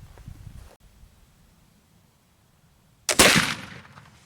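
A black powder gun fires at a target with a loud, sharp blast near the three-second mark, trailing into a decaying rumble, after quieter rustling and handling noise.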